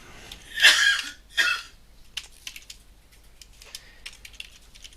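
Light clicking on a computer keyboard as a rubric criterion title is entered, with two louder breathy bursts early on, then scattered soft keystrokes in short runs.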